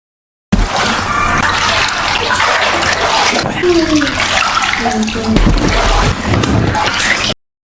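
Water pours steadily into a bathtub in a horror movie scene, a continuous rushing, splashing fill with occasional gurgles, while a voice talks over it.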